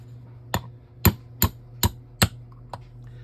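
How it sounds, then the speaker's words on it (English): A hammer taps a pin through a 1911 pistol using a brass punch, five times in an uneven rhythm, sharp metallic knocks up close, followed by a fainter sixth tap, over a low steady hum. "just the weight of the hammer takes it right through"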